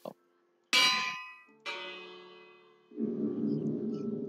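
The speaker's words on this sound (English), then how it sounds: "There's a cloister bell." The cloister bell in a Minecraft Tardis mod rings out in two loud metallic clangs, each with a long ringing decay, followed by a softer low droning hum.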